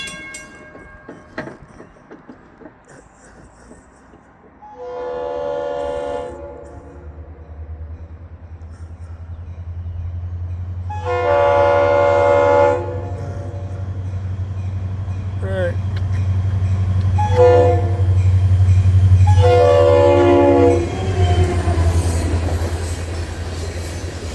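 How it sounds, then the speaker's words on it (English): A local freight train pulls into a rail siding near a crossing gate while its horn sounds several blasts. A deep locomotive rumble builds and holds close by, with faint wheel squeal and some distant voices. "we'll watch this train go into the siding"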